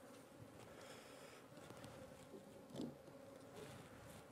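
Bees buzz softly in an opened hive box while a mini nuc is stocked, a faint continuous drone of many insects with one slightly louder swell.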